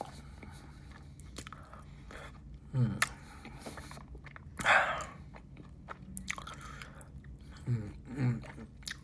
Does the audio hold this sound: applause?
no